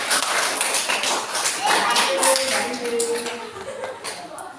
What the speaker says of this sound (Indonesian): Kalau tidak ada aplaus untuk Mbak.